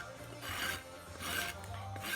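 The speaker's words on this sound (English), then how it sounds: "I took my rasp and I leveled out my heels just slightly, holding my rasp flat and leveling that heel up" A farrier's rasp held flat and drawn across a horse's hoof heel to level it, giving steady rough scraping strokes in a slow repeating rhythm, close and moderately loud with no talk.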